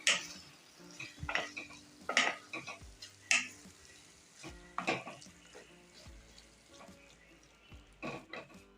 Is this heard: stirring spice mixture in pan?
yes